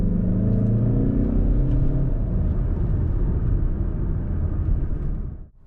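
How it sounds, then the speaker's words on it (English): A turbocharged car engine's intake roars loudly under acceleration, a steady rising drone that holds for several seconds before cutting off abruptly. "You don't really hear the exhaust, but you do hear the intake when you put your foot down."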